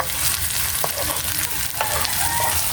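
Potatoes fry in a pan with a steady, close, continuous sizzle and crackle, with a few stirring scrapes and no talk over it.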